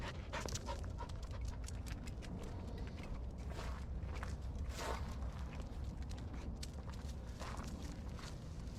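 A dog pants quickly and shuffles about nearby, with rhythmic breathing and light scuffing steps against a low background rumble.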